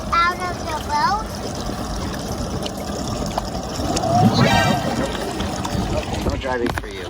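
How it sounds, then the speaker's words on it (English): Small dinghy motorboat running across water while sailing to Catalina, a steady engine drone with splashing and wind rushing past, fairly loud and close throughout. "We took a quick dinghy drive over to the spot"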